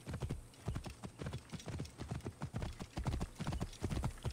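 In the video game Assassin's Creed Origins, a horse's hooves clip-clop in a steady rapid rhythm, close and clear throughout with no talking over them.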